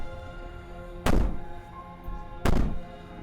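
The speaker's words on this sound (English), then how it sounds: "Maybe the banging and wailing will stop if you just don't pay attention to it." Two heavy, booming bangs strike about one and a half seconds apart in the video game Slay the Princess, each a deep thud against a door that rings out briefly over a faint hum.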